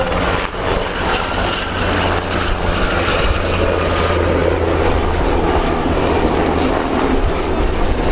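A combat helicopter of the 1st combat helicopter regiment from Phalsbourg, Alsace, flies at an air show, its steady rotor and turbine roar loud and continuous throughout with a constant whine on top.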